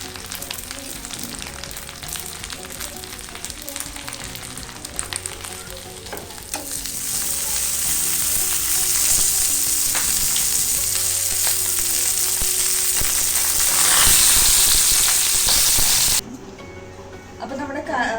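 Pearl spot fish wrapped in banana leaf fries in a pan Kerala style, a loud, steady sizzle that swells after a few seconds and cuts off sharply near the end, with a voice speaking over it.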